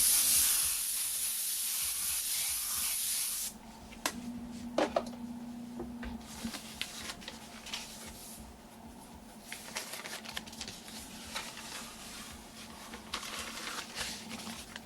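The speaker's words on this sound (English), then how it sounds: "Wide spray through there of white." Airbrush spraying white paint in a steady, loud hiss for about three and a half seconds, then dropping to a softer, intermittent spray hiss with faint clicks.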